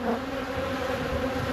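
Honey bees buzz in a hive from a newly established colony, a dense, steady drone close to the ear with layered hums holding constant throughout.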